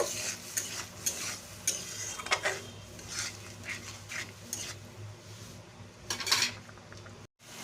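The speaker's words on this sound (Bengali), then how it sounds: "আমি মশলাটাকে ভালো করে কষে নেব" Spice paste is stir-fried in a pan while a pot of pointed gourd cooks, with scraping spatula strokes and clinks over a low sizzle, close and fairly quiet.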